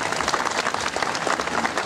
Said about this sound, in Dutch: Dus even een applaus voor de bewoners.